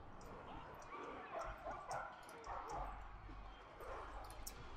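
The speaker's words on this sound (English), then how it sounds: "Oh, that's enemy dogs down there." Enemy war dogs in the Total War Arena video game bark and yip faintly in the distance amid battle noise, with someone talking over the sound.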